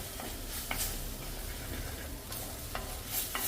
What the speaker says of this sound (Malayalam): ഈ ചോറിൽ ഇതും തക്കാളിയും കൂടെ നല്ലപോലെ ഒന്ന് മിക്സ് ചെയ്തെടുക്കാം